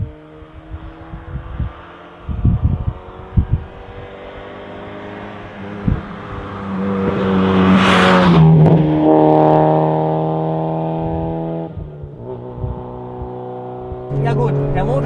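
A naturally aspirated Mazda MX-5 NB track car revs up, its engine tone climbing and holding loud for several seconds before easing off, with people talking before and after.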